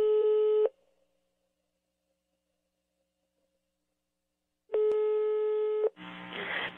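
Telephone ringback tone on a prank call: a steady electronic beep, a long silence, then a second beep, followed by a brief burst of noisy line sound at the end.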